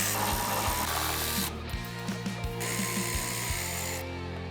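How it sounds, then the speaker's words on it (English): Electric ratchet spinning off 10mm bolts on a Toyota Tacoma, a steady motor whir broken by a series of sharp ratcheting clicks and brief pauses between bolts, close and loud with no talk. "We have our electric ratchet and extension and our 10mm socket."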